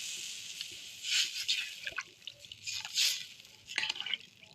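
Water poured into a pan of sticky fried spices for a fish curry, giving soft bursts of hissing, splashing liquid in a few uneven surges, close and fairly quiet, with no talking.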